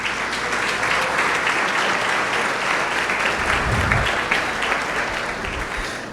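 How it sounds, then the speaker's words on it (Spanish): A church congregation breaks into steady, sustained applause, dense and continuous throughout, with a faint murmur of voices underneath. "Dele un aplauso a Cristo."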